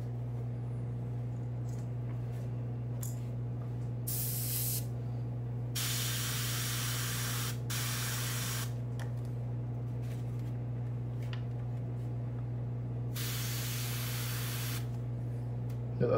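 An airbrush fed by a compressor sprays white paint onto a fishing lure, a golden shad pattern; broad hissing bursts come and go in several spells over a steady low compressor hum.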